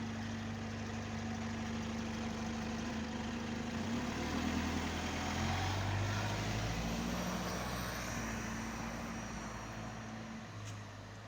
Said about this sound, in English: See, you're hearing the exhaust mainly there.